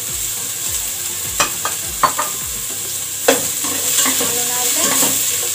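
Carrots being stirred and sautéed in a pan for creamy chicken macaroni soup, with steady sizzling and several sharp utensil scrapes and clinks, plus a brief spoken phrase.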